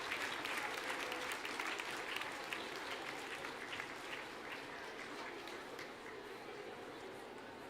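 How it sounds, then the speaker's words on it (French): Sustained audience applause at a cat show, a steady clatter of many hands clapping for the full stretch at moderate distance, with no break. "Je vous demande de les applaudir très, très fort."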